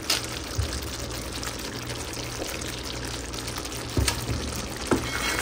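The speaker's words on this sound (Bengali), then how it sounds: "এবার যাবে ক্রিম। আমি 1 টেবিল স্পুনের মতো ক্রিম দিচ্ছি।" About a tablespoon of cream is poured into simmering paneer butter masala in a pan, a soft, close liquid pour with faint stirring clinks and no talk.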